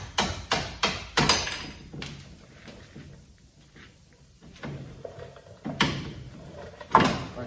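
Metal tapping on a Kawasaki KRX side-by-side during a 3-inch lift install, a string of sharp, loud knocks near the start, a quieter stretch of faint clatter, then a few more hard raps near the end, close up and without speech.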